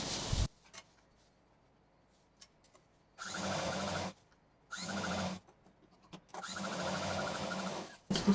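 A sewing machine runs in three bursts of steady whirring stitches along a cushion cover border, with quiet pauses between runs.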